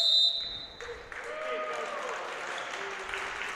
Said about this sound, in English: you hear from the Harbor Creek crowd their appreciation for that effort